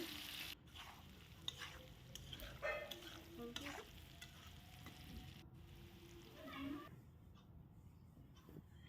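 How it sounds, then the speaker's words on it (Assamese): Potato pieces seasoned with salt and turmeric fry in an oiled kadai for a paneer and potato curry, giving a steady close sizzle broken by repeated scraping stirs, with no talking. "আলুখিনিও সেই একেদৰে ৰংচোৱাকৈ ভাজি ল'ব লাগিব।"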